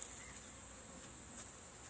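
Honeybees in a newly established hive hum in a steady, faint, high-pitched buzz, growing agitated, with no voices over the close drone.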